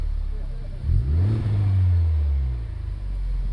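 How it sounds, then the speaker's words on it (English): Honda Civic Type R with a three-pipe exhaust and resonating middle pipe, a throaty engine note that swells as the car revs and passes, then fades back to a low rumble. "the exhaust is directed out of all 3 pipes, with that middle pipe acting like a resonator, making the exhaust note a little more throaty"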